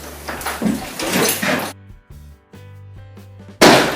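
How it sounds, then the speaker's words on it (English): A door in an 1806 stone house being shut, with scraping and knocking against the frame over low steady hum, ending in a loud close thud. "shut the door"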